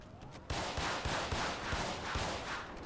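Gunshots in a video game roleplay session, a burst of dense rapid fire starting abruptly and continuing as repeated cracks over a constant noisy roar, no talking.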